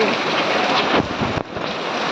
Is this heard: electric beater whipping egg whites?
no